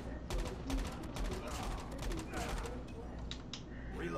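Gunfire in a mobile battle royale multiplayer shooter played on GameLoop, rapid bursts of shots and mechanical clicks repeating throughout at moderate level, with a voice talking over them.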